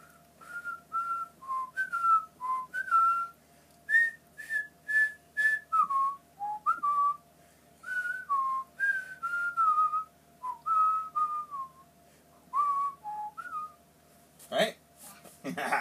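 A dad whistles The Empire Strikes Back theme in clear, close melodic phrases with short pauses between them, and a brief knock near the end.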